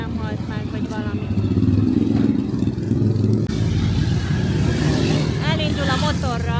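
A motorcycle with a crushed, broken wheel pulls away on a street in Bogotá's Bronx district, its engine droning loudly and steadily, with a voice talking over it.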